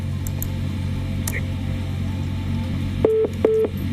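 A telephone line on a live TV call-in show after the caller's call drops: a low hum of quiet line noise, then two short, evenly spaced tone beeps near the end.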